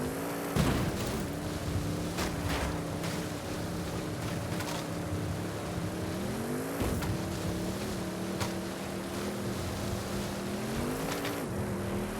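An Audi races hard in Forza Horizon 5, its engine note rising and falling through gear shifts, loud and continuous with occasional sharp thumps.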